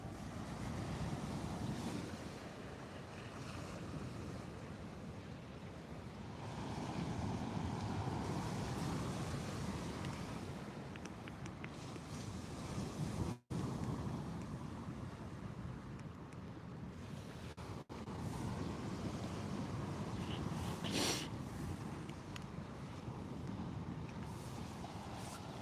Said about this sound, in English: There's a bit of wind there.